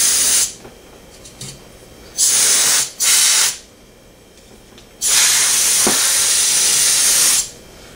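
Compressed air from a can of air duster hisses into an opened Xbox 360 in loud, close bursts: two short sprays, then a longer blast, with quiet gaps between them.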